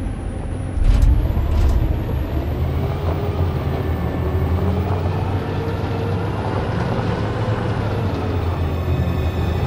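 Heavy truck engine droning steadily in the game Detroit: Become Human, with a sharp hiss near the start like an air brake release, loud and continuous throughout with no talk.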